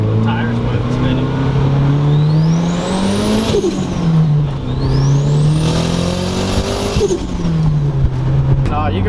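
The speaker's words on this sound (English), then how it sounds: "No, the tires might be spinning." A boosted Nissan 240SX accelerates hard on a street, its engine revving up through two rising pulls with tires spinning, loud and close from inside the car while people talk over it.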